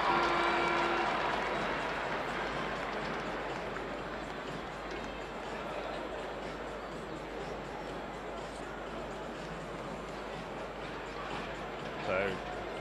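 A large crowd cheers athlete Terzic at an athletics race. The roar is diffuse and continuous, strongest at the start and easing to a steady background wash under indistinct voices.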